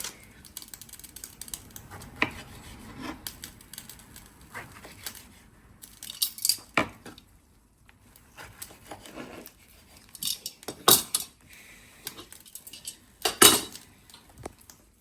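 Bananas being cut in half on a board in a home kitchen, giving a series of close, sharp knife taps and clicks at an irregular pace with soft handling noises between.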